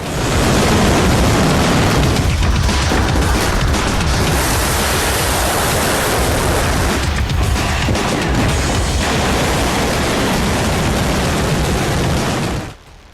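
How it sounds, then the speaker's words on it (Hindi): Hwasong-19 intercontinental ballistic missile test launch: a loud, sustained roaring rumble of broadband noise lasting about twelve seconds, with slight surges, ending abruptly. "गुरुवार को भी किम ने अपनी निगरानी में अपनी सबसे खतरनाक हवासोंग सीरीज की अंतर महाद्वीपीय बैलिस्टिक मिसाइल का टेस्ट किया"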